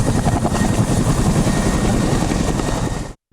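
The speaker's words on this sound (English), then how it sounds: "an Air Force helicopter reached the scene of the crash" An Air Force helicopter at an aircraft crash scene near a canal beside Lake Janaranjana in Kantale, its loud, steady rotor thump and engine roar close and continuous before cutting off abruptly.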